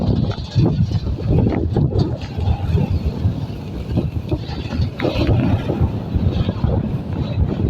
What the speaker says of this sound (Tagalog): mahangin talaga dito ngayon kasi alam niyo na yung panahon